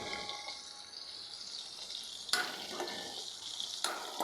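Dried fish curry sizzling and frying in a pan while being stirred, a steady crackling hiss with occasional louder scrapes of the spoon, no talk.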